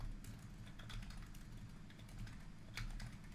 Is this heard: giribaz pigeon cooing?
no